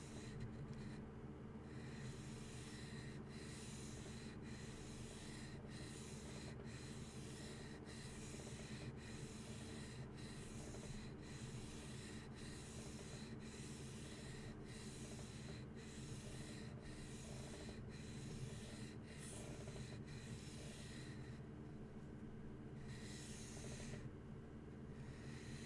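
A knife blade is polished in a workshop, producing a faint, regular rubbing stroke repeated roughly every second over a steady background hum, with no talk.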